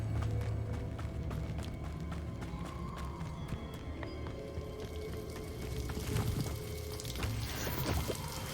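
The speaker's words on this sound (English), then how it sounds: "The waterfall." A waterfall in Hogwarts Legacy gives a faint, continuous watery rush. Scattered clicks and footstep-like taps are heard over it.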